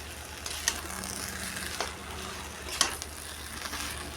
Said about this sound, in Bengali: এখন আবার একটু নেড়ে নেব